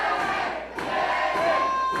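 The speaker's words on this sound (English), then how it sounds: "This crowd's starting to come alive" A wrestling crowd at an 880 Wrestling show cheers and yells in a brief, steady swell, fairly loud, with a few sharper shouts rising out of the noise.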